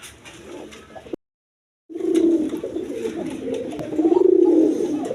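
Giribaz pigeons at a pigeon seller's coop give low, throaty repeated coos, with a short silent gap before the cooing resumes louder and continues close by.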